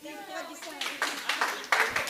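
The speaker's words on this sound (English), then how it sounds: "we didn't give them a round of applause" Audience applause at a Ugandan tourism summit session, several bursts of clapping rising and fading across the room, mixed with background chatter and voices.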